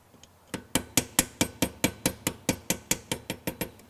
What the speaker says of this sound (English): you're just going to hammer it into place